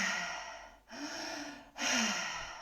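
Deep rhythmic breaths during a guided breathwork exercise at a new moon ceremony, with two full inhale-exhale cycles separated by brief pauses, close and fairly loud with no talking.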